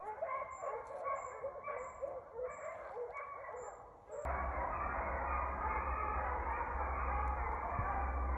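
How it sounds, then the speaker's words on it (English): Deer hounds bark and yip in a rapid, overlapping chorus out in the woods, first as a busy medley of barks and then buried under a louder, steady rumble of noise. "Y'all some pretty dogs."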